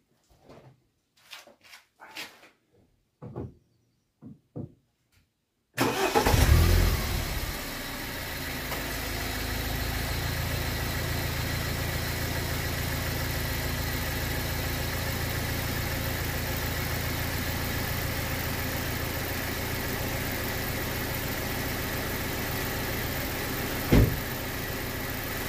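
A BMW car engine idles at a steady level with a faint whine running underneath, starting abruptly after a few quiet clicks and continuing unbroken with one brief knock near the end.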